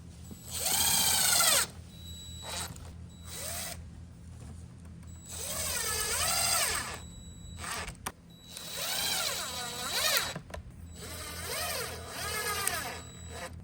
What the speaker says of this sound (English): Now we pop the screws in.